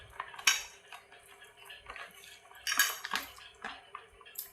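Fish is tossed with salt, chili and spices in a bowl, producing quiet, intermittent clinks and wet scraping of a utensil against the dish, with no speech.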